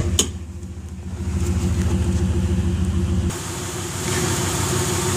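A 2008 Pontiac Grand Prix GXP with its LS4 V8 runs with a steady, throbbing exhaust rumble. The drone rises slightly and then shifts in tone partway through as the engine keeps idling close by.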